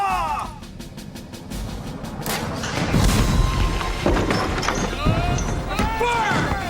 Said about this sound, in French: Tous les canons, ensemble, commencèrent à foudroyer l'église avec une étonnante rapidité.